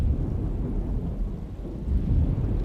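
Low, rolling rumble of a distant thunderstorm in the horror video game Alone in the Dark, steady and muffled, with soft rain-like hiss and no voices.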